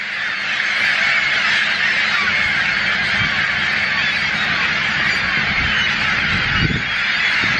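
A seagull colony on Snake Island calls as a dense, loud, continuous chorus of honking, squawking cries from many birds at once, with a brief low thump near the end.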